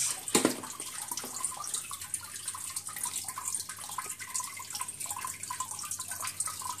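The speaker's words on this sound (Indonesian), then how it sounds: "Semua netpot terkena cipratan air" Water sprays and splashes continuously onto hydroponic net pots in an aeroponic system, a steady hissing patter with small drips, close by and fairly quiet.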